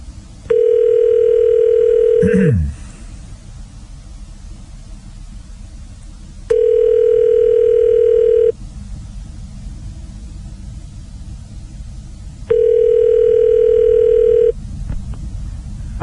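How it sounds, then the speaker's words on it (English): Ringing tone of an international telephone call to Toronto, Ontario, long steady tone bursts repeating in a slow regular cadence with pauses between, clear and close on a quiet line. "Well, it's ringing."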